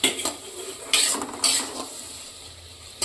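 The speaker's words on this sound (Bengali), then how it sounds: "এটা আমি একটু নাড়বো" Food being stirred in a cooking pot while preparing a cauliflower dish in milk, heard as repeated scraping bursts of a utensil against the pot over a faint sizzle, nearby with no talk.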